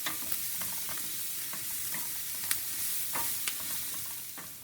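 Bacon and onions fry in a pan with a soft, continuous sizzle and occasional pops and utensil clicks, fairly quiet and close, no talking.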